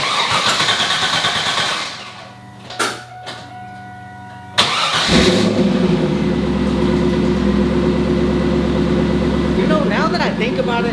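A neglected Chevrolet Camaro SS cranks and fires up, its engine catching with a sharp burst and then settling into a loud, steady rumble close by, with a brief rev and voices talking over it.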